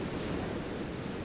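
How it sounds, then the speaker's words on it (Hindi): Steady outdoor wind blowing in a broad, even rush throughout, loud and continuous with no voices over it. "कितनी अच्छी हवा चल रही है।"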